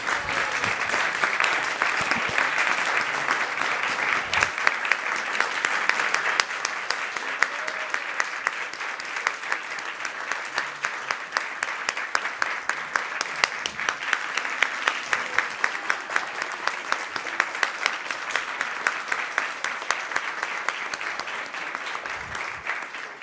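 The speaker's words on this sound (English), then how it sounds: "And give him a rousing hand of applause." Sustained applause from an audience at a temple gathering, dense, steady clapping from many hands that continues for over twenty seconds at an even level.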